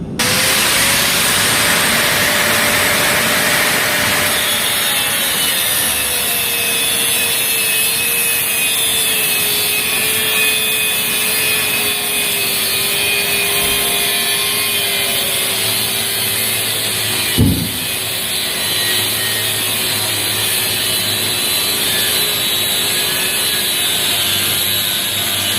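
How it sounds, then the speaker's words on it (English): At a blacksmith's forge, a power tool cuts through the ends of metal tongs with a continuous, close grinding whine whose pitch slowly sinks as the cut goes on. A single sharp knock sounds near the end. "I'm just going to cut that off both sides"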